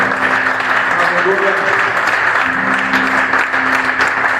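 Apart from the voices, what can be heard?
church congregation applauding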